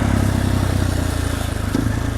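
A supermoto motorcycle being ridden in winter, its engine droning steadily and loud up close with a rough, buzzing tone, accompanied by some rattle and wind noise.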